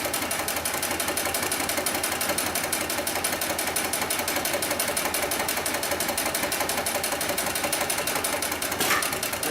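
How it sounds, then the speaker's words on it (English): Industrial sewing machine built for heavy lifting slings drives thick thread through four layers of heavy-duty webbing, a steady, loud mechanical whir with rapid regular needle clatter running unbroken and alone. "we'll go ahead and sew through 4 layers of this heavy-duty webbing. And again in reverse."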